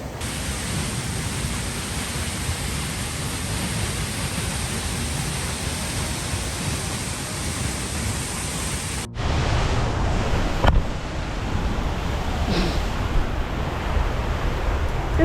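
Lone Creek Falls in Mpumalanga, South Africa, roars as a steady broadband rush of falling water, loud and close, continuing unbroken with a brief handling bump partway through.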